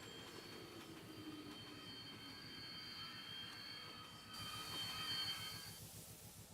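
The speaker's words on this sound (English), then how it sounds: "Listen to that brake squeal" Train brakes squealing in the railroad video game Infinite Rails, thin high-pitched tones held steady over rhythmic clicking wheels and a low rumble, the squeal shifting and brightening near the end before the train slows.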